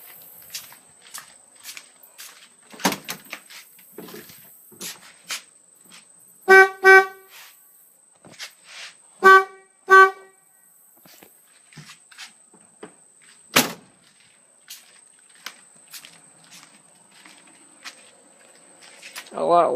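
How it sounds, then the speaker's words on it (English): New horns installed on a 1965-1966 Ford Mustang, giving two pairs of short honks, each pair quickly repeated. Between them come scattered clicks, knocks and door sounds around the car. "Okay, so now we have both horns installed."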